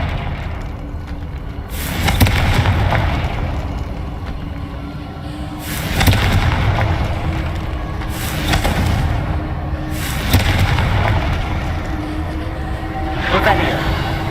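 Confringo fire spells in Hogwarts Legacy go off as several loud, broad blasts a few seconds apart over rumbling game ambience, with a voice heard in places.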